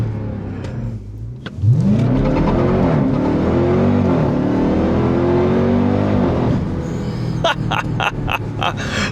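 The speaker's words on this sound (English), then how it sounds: "Oh, those are some quick downshifts too." A 2026 Dodge Durango Hellcat engine roars up through the revs with a rising whine, then snaps through quick downshifts with sharp blips near the end, loud and close from inside the cabin.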